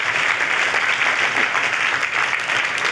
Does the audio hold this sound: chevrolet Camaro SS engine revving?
no